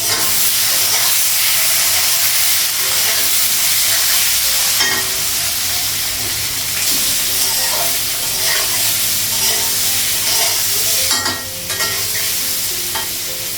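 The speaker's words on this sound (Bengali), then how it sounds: "পনিরের মধ্যে হলুদ আর হচ্ছে লবণ দিয়ে পনিরটা মেখে নেবো, তারপর ভাজবো" Turmeric- and salt-coated paneer fries in a hot pan, a steady loud sizzle and hiss with scraping stirs and occasional clattering bursts from the spatula.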